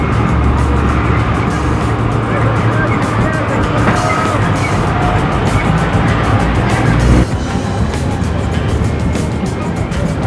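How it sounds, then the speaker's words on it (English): A chicken bus in Antigua, Guatemala, its engine roaring loudly and steadily throughout with heavy low rumble, close by amid busy street noise. "That is a nice chicken bus."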